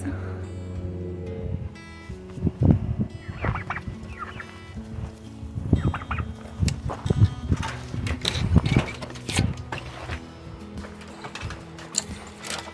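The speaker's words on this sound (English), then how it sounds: "Hello, turkeys." Turkeys gobble repeatedly at close range in a farmyard, with bursts of rattling calls overlapping one another in irregular clusters throughout, over a low steady background.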